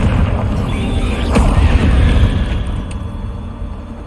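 A Confringo blasting spell explodes in Hogwarts Legacy on PlayStation 4 Pro, producing a loud, broad rumbling boom that swells and then slowly fades.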